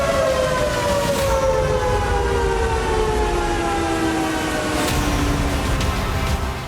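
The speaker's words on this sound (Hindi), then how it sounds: "हमले के बाद सायरन बजने लगा" A siren wails after an attack on a dam on the Ural River, its long sliding tones falling slowly in pitch over a steady rumbling background, loud and continuous throughout.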